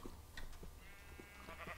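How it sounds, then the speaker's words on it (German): A sheep in Minecraft gives one faint, wavering bleat midway through, alone among quiet background noise. "Das war das Schaf."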